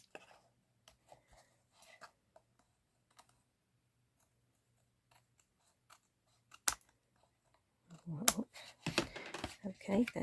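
Scissors snip at the edge of a paper Christmas gift box for tea and biscuits, a few scattered close cuts early on, then a denser burst of crisp paper-cutting sounds near the end, with no talk.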